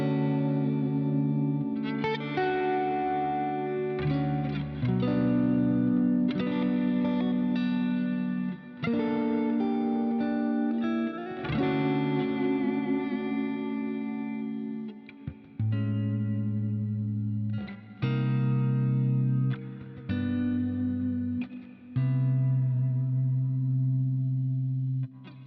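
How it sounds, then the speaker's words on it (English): Electric guitar in a modern driven clean tone through an amp plugin with overdrive and heavy compression, playing a chorus-tinged sequence of chords and single notes with short pauses, clear and upfront with no talking. "that's the modern driven clean tone"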